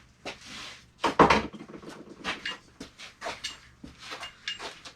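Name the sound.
alternator being fitted onto Mini Cooper R53 engine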